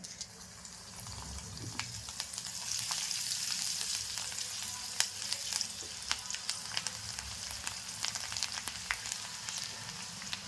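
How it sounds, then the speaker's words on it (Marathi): Garlic fries in a pan with spinach for a Gujarati palak besan dish, a soft, steady sizzle broken by frequent sharp little crackles. "आता ह्याच्यात मी घालणार आहे लसूण"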